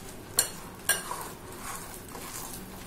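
Grated cabbage being mixed by hand with rice flour and gram flour in a bowl, a few soft scraping and clinking touches over a faint, quiet background, with no voices.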